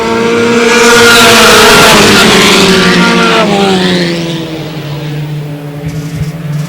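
Stock cars race around an oval track, a loud engine roar swelling as the pack passes close, then the pitch drops and the sound fades into distant droning.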